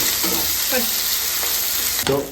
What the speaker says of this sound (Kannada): ಎರಡನ್ನೂ ಚೆನ್ನಾಗಿ ಫ್ರೈ ಮಾಡಿಕೊಂಡು ಸ್ವಲ್ಪ ಕಂದು ಬಣ್ಣ ಬರೋವರೆಗೂ ಫ್ರೈ ಮಾಡಬೇಕು